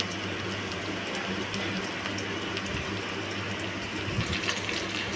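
Chicken balls for chili chicken sizzling as they are dropped one by one into hot oil in a wok, a soft, steady hiss of frying that runs continuously and fairly quietly.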